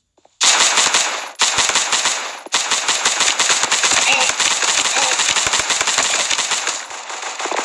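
Rapid automatic fire from the Destroyer gun in the shooter game Guns of Boom bursts loud and close, one short burst followed by long sustained strings of shots.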